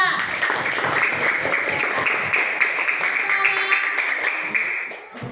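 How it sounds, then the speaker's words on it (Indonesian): Students in a classroom clap for a presenting group, producing a steady patter of applause that tapers off near the end, with voices murmuring underneath. "coba tepuk tangan dulu kelompok 2"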